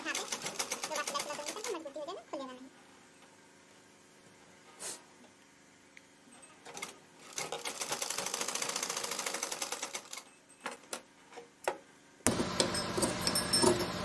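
A sewing machine stitches a blouse lining in rapid mechanical runs, with a long steady burst in the middle and a loud final run, broken by clicks, pauses and a voice early on.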